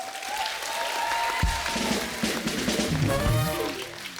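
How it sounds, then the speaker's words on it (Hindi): A studio audience at a television comedy talk show applauds to welcome a guest. Steady clapping runs throughout, blended with music playing in the background. "भाई तालियां हो जाएं।"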